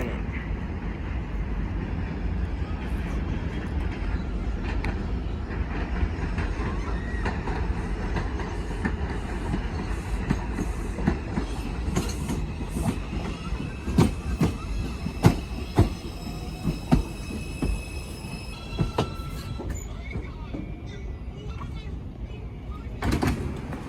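A Manhattan-bound 4 IRT subway train rolls through a station with a heavy rumble and rhythmic clickety-clack of wheels, squealing and sharp clanks building toward the end, a faint automated announcement sounding near the close.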